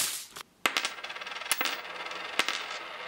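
Metal coins clinking and tapping together in a quick irregular series of bright, close, moderately loud chinks, with a couple of sharper rings standing out.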